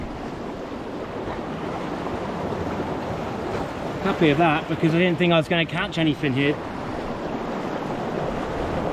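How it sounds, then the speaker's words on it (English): Sea water surges and washes in around an angler standing on a rocky shore, a continuous loud rush with wind buffeting, while someone talks briefly over it midway. "Water's coming in around me"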